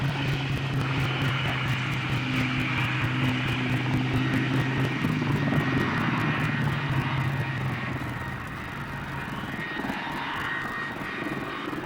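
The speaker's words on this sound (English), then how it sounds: "a rare sight in the skies above Farnborough, a replica of the First World War bomber, the Vickers Vimy" A replica Vickers Vimy First World War bomber flies over the Farnborough air show. Its propeller engines give a steady, loud droning hum that eases slightly toward the end, with no voices over it.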